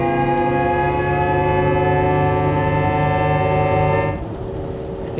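A ZEEKR 7X's simulated driving sound plays while the electric SUV accelerates: a loud, sustained synthetic hum with layered organ-like tones that holds steady, then drops and thins near the end.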